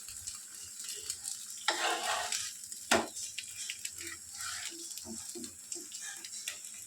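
Chhana (cottage cheese) paratha frying in a pan with a little oil: faint, steady sizzle with soft stirring and scraping, a couple of louder spatula clatters, no talking.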